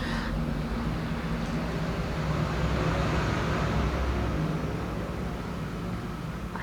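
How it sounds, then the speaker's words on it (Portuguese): A truck passing on the road outside, a broad, hissing roadway rumble that swells and holds for several seconds, then eases at the end, with no voices over it. "Passou o caminhão"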